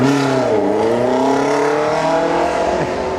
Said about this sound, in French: il y a une moto